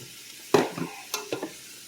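Brief bursts of sizzling and stirring of zucchini in a hot pot, a few crackling surges over quiet background.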